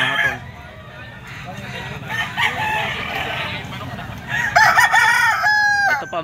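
A white Kelso gamefowl stag with a straight comb and yellow legs crows loudly at a busy fighting-cock market in Lipa, Batangas, its calls rising over steady crowd chatter and other birds clucking nearby.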